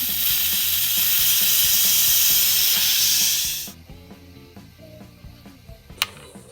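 A pressure cooker vents its steam in a loud, continuous hiss that holds for several seconds and then cuts off, leaving quieter clicks and a sharp tap in the background.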